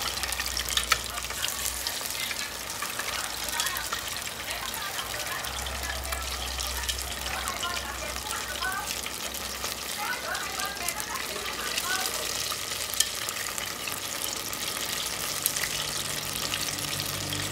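Oil bubbles and sizzles steadily as Vietnamese egg rolls (chả giò) deep-fry, a continuous crackling hiss with a low background rumble, no voices over it.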